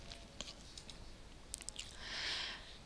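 A few faint, sharp computer mouse clicks on a desktop program icon, scattered over a quiet background with a soft hiss rising near the end, no voices.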